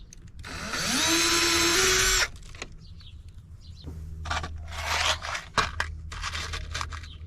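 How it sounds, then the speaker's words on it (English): Power drill pre-drilling holes for a light bracket inside a camper van: one sustained, rising whine for over a second, then several short clicks, scrapes and brief bursts of tool noise. "Pre-drill the holes."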